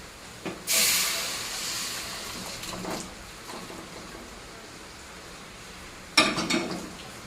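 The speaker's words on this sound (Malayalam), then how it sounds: "അതിലേക്ക് നമ്മൾ ചിക്കൻ വെന്തിട്ടുണ്ട്, അത് നമുക്ക് ഒഴിച്ചു കൊടുക്കാം" Cooked chicken poured into hot masala for a Kerala-style country chicken curry, setting off a sudden loud hiss that softens into a steady sizzle, with a second sharp burst of sizzling near the end.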